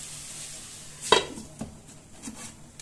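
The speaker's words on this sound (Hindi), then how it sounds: "देखिए अब हम इस पे इस तरह से ढक्कन लगा देंगे" A lid is set onto a cooking pot of amaranth greens: one sharp metallic clank, then a couple of lighter knocks as it settles, over a quiet kitchen background.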